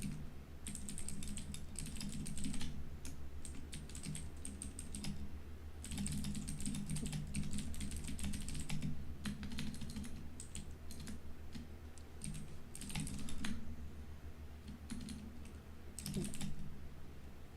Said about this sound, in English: I'm typing to Jake